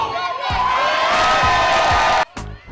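A school crowd roars and cheers at a high school basketball game against Chicago Bulls College Prep, with cheerleaders rallying it. The loud, sustained cheering is full of whoops and shouts, then breaks off briefly near the end before swelling again.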